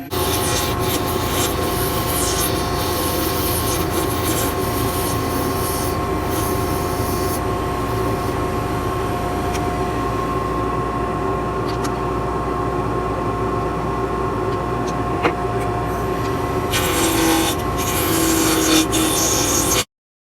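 A lathe runs continuously while a fountain pen section blank is roughly rounded, a constant loud motor drone with steady scraping from the tool, the cutting brightening briefly near the end before stopping abruptly.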